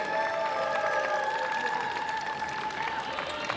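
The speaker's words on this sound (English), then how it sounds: "Let me hear you make some noise for the first match." A home crowd in Winter Haven, Florida roars with sustained applause and cheering before the first match of a wrestling-style event, a dense, even wall of clapping and shouts throughout.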